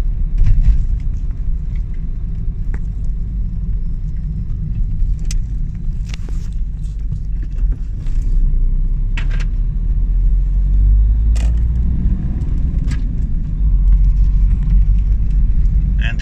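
An Audi A2 1.4 TDI drives along a highway, its engine and road noise forming a steady loud rumble throughout, with a slight lift in level partway through as it picks up speed.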